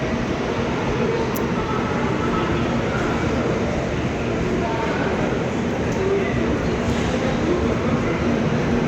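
A train at a railway station around midnight, a continuous loud rumble of rail cars with faint clicks across the whole stretch, and people talking quietly beneath it.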